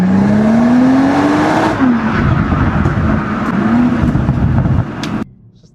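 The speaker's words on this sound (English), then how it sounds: "that B58 just sounds so good" A BMW M340i xDrive with the B58 inline-six revs hard nearby, the engine note climbing, dropping between gear changes and climbing again before cutting off abruptly.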